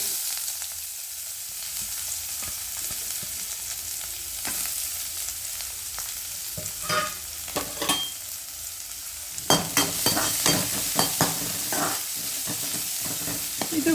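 Finely chopped onion frying in oil for a ladies finger (okra) fry, a steady close sizzle with scraping stir clatters that grow louder and busier partway through, no voices.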